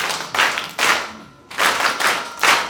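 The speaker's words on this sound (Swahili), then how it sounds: "mpigeni makofi." A group of people claps in loud bursts, four rounds of applause separated by short pauses, close and lively, with no speech over it.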